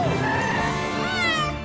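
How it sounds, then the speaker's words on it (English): A cartoon cat stuck in a tree gives one drawn-out, wavering meow, close and clear with a rising whine near its end. "Sounds like a cat needs help."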